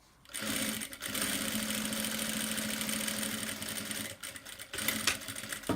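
A sewing machine runs steadily for several seconds, stitching a round bag, with a brief pause near the end before the motor whirs again; loud and close, no talk.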